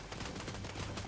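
Rapid gunfire in the video game Fortnite, a dense, sustained burst of shots filling the whole moment at steady loudness with no pauses.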